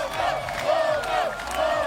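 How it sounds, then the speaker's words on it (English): An arena crowd at a Tekken World Tour Combo Breaker event cheers a tournament win, with sustained shouts and whoops rising and falling in repeated waves of loud, massed voices. "The crowd, of course, giving him his praise."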